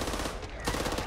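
Gunfire in the zombie shooter Back 4 Blood, a steady dense stream of shots across the whole moment, loud and close, with a brief lull before the firing picks up again.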